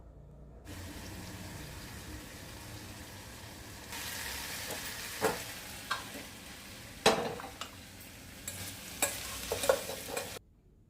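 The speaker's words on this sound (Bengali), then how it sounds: "খুব ভালোভাবে নাড়াচাড়া করে নেব।" A taro mixture being stirred in a pan, a soft sizzle that grows louder partway through, with several distinct scraping strokes in the second half before it stops abruptly.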